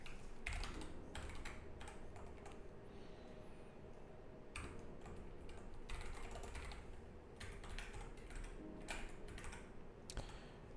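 A computer keyboard's arrow keys and other keys are pressed during PICO-8 game development, making faint, irregular clusters of soft clicks against a low steady background hum.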